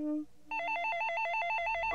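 A telephone bell rings in a rapid, warbling trill after a brief tone and a short pause, loud and close, continuing steadily.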